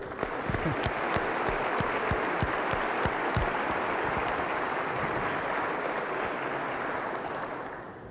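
A large audience at a State of the State address applauds, a dense, loud, steady wash of clapping with a few sharp claps up front that fades slightly near the end.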